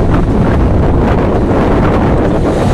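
Strong wind buffets the microphone at Bakauheni port on the Sunda Strait, a loud, steady roar with rushing waves and water churning beneath it, continuous throughout with no voices.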